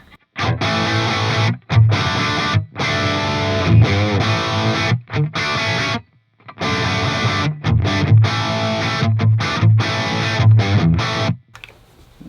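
A heavily distorted electric guitar plays chunky riffs through a Synergy Deliverance amp, loud and saturated, stopping briefly between phrases.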